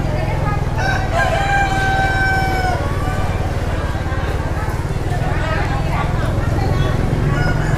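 Rooster crowing amid chickens and ducks for sale at a busy Vietnamese outdoor market before the Kitchen God festival, a couple of clear crows over steady crowd chatter and market bustle.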